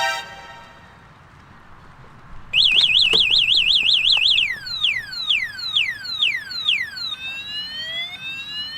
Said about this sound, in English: With the remotes provided, you can put a lock alarm on your bike